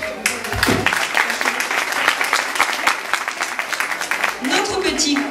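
An audience claps loudly and continuously for a performer at the end of a Christmas tale show, with a voice speaking briefly at the start and again near the end over the applause.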